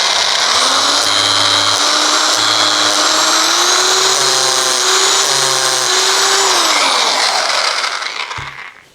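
A Parkside PES 250 A1 electric scraper runs alone at close range, a loud steady motor whine with a short rising pitch as it spins up, holding for several seconds before winding down and stopping near the end.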